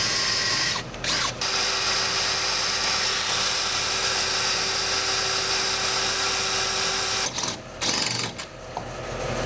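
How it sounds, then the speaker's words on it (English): A power drill whines steadily and loudly for several seconds, drilling out stripped bolts on a Toyota gas tank rear bracket, briefly stopping and restarting near the start and again toward the end. "to deal with the stripped out bolts in the rear bracket for the gas tank, we're going to try to drill them out"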